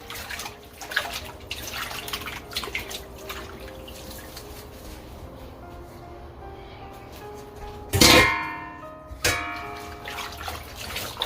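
Plantains washed by hand in a sink with very hot running water, with steady trickling and dripping throughout and two louder splashing bursts near the end.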